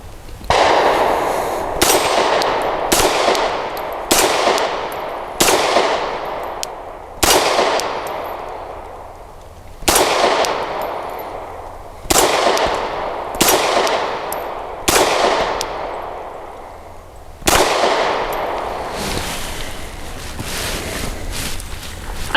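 A Wilson Combat SFT9 pistol fires at steel targets in a string of sharp, loud shots, each followed by a ringing clang and decay, spaced irregularly one to two seconds apart.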